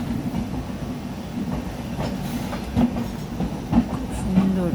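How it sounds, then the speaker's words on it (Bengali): A passenger train heading to Kolkata runs along the tracks beside the Padatik Express, with a steady low rumble and periodic clickety-clack wheel beats, close and continuous. "আমাদের ট্রেন এইভাবে চলছে আর ওই যে পদাতিক পাশে চলছে।"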